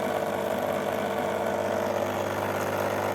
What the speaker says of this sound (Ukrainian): Двигун генератор крутить наш генератор.